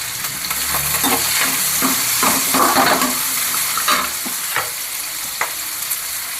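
Curry leaves fry for egg kurma in a loud, close sizzle that flares and crackles, with a few light clinks of a utensil against the pan.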